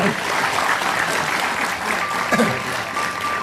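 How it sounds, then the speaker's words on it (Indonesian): A television studio audience gives steady, dense applause, many hands clapping together at an even level for a few seconds, with a faint voice briefly under it. "Kita kasih tepuk tangan dulu buat mereka."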